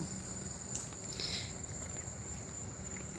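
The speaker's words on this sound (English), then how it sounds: "Crickets, cicada, I don't know," Crickets or cicadas chirp outdoors in a faint, steady, high-pitched drone that runs throughout, with light rustling underneath.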